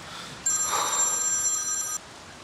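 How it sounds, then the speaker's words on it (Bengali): A telephone rings once in a quiet room, a bright electronic trill lasting about a second and a half, fairly close and alone. "সেলিন, ফোনটা ধর"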